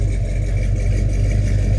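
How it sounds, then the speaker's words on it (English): A 1970 Chevrolet Chevelle SS Z25 with a 396 big-block V8, likely on a MagnaFlow exhaust, idles after a cold start. It gives off a steady, close, deep exhaust rumble with a smooth, even pulse, and no one speaks. "I got a sneaking suspicion it might be a MagnaFlow exhaust system, because it's got a nice low rumble, but it's not that loud."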